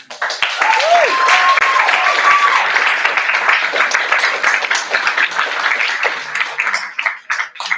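Audience applause at a poetry slam, a loud, dense crowd clapping that holds steady throughout and thins slightly toward the end, with some voices mixed in.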